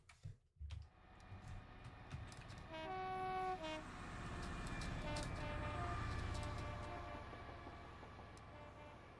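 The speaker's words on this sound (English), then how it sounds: "An amazing sound. Train over the track joints." A train in the Train Sim Classic railway game rolls over track joints with a rumbling, rhythmic clatter that swells and lingers, and a brief horn blast sounds early on. No one speaks.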